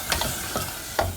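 Beaten curd is stirred quickly into masala in a hot pan over high flame, a few brief scraping strokes over a faint sizzle.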